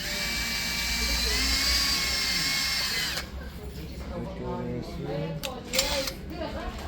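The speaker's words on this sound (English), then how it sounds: "just drill that pilot hole into your" A power drill whirs steadily for a few seconds drilling a pilot hole in wood, then stops, and a person starts talking over faint workshop noise.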